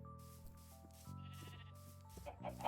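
Sheep bleat in Minecraft, a blocky video game, with several short cries rising over a busy layer of tonal game sounds and background music, the calls growing louder near the end.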